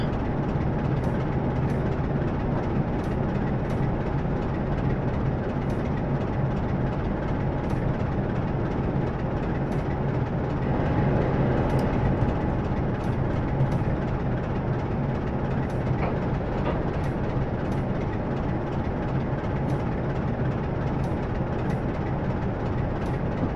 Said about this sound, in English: And now we bring the train to a stop.